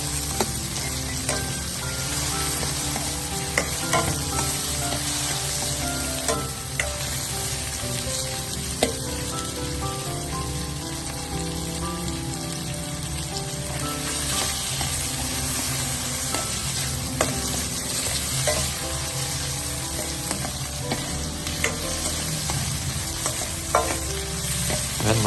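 Tomatoes picked up by a river fry in a pan, a continuous close sizzle broken by frequent scraping and clinking as they are stirred, unbroken for about twenty-five seconds with no speech.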